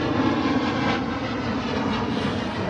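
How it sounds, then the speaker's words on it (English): An airplane passes overhead with a loud, steady broadband engine roar that holds for the whole stretch. "another airplane."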